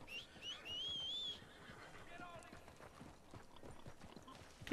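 A horse in Red Dead Redemption 2 gives a high neigh, then its hooves clip-clop in a quick rhythm, close and clear, while someone talks over the hoofbeats.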